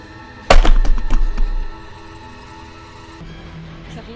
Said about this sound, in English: Suddenly heard a bang on the door